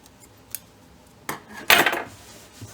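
Scissors snipping loose threads on a sewn Harry Potter costume robe: a few short, close metallic snips and clicks, with the last cut louder and sharper, then quiet.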